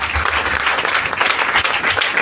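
A church congregation claps to acclaim Jesus Christ, dense, loud applause that fills the room and holds steady throughout.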